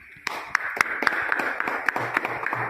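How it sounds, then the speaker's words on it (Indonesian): A classroom of students claps together, a dense sustained patter of hands with sharper individual claps standing out, close and fairly loud. "Kita beri tepuk tangan"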